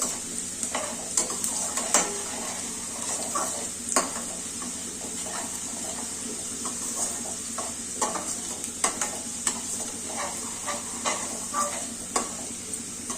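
Fenugreek leaves and onion sizzle steadily in a pan, with frequent stirring and light scrapes of a utensil against the metal throughout.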